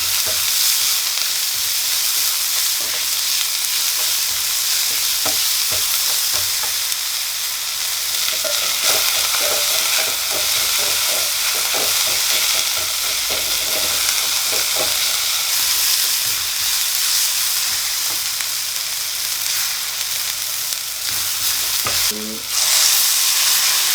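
Dhania stems fry in a pan with a loud, continuous close sizzle, while a utensil stirs and taps against the pan in scattered soft knocks throughout.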